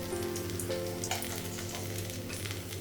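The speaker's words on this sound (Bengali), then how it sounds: "এই তেলে হচ্ছে ডালটা ফোড়ন দিবি, পাঁচফোড়ন দিবি" Masoor lentils tempered in hot oil with five-spice (panch phoron), giving a steady, close crackling sizzle that carries on unbroken with no voices.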